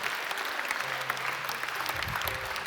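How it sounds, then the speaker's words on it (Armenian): Sustained audience applause fills a church after a prayer service, a dense steady clatter of many hands clapping at even loudness throughout, with no voices rising above it. "Եկեք ծափարենք իրանց"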